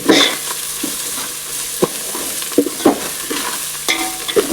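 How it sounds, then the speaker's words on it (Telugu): Ginger paste and coriander leaves frying in a pan for chicken biryani, with a steady loud sizzle broken by repeated scraping stirs at irregular intervals, close up and without talk. "సో ఈ కచ్చా పచ్చా వాసన పోయేంత వరకు మనం అయితే ఫ్రై చేసుకున్నాం"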